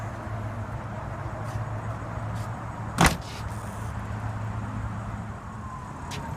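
The power tailgate of a 2015 Audi Q7 S Line 3.0T swings shut with a single solid thud midway through, heard close against a steady low hum from the vehicle and surroundings, with no talk.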